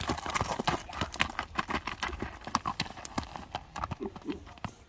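A horse is turned around in place on firm ground, its hooves clip-clopping in an irregular run of close, sharp strikes, with a brief whinny-like sound and faint voices in the background.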